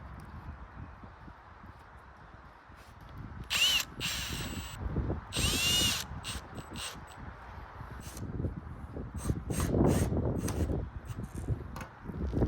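A power drill drives screws into MaxxFan mounting clips inside a race trailer, with several short whirring bursts separated by pauses and quiet handling noise.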